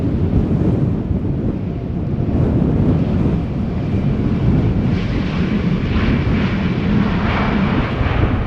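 A Transavia Airbus A321neo flies past at Schiphol, its engines a loud, steady rumbling roar mixed with wind buffeting on the microphone, with a faint high whine emerging toward the end.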